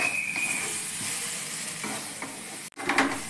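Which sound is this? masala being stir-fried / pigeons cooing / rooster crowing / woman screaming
masala being stir-fried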